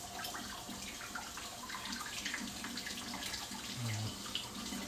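Tap water runs steadily into a kitchen sink while a bell pepper is rinsed under the faucet, a soft continuous splash at close range with no talk.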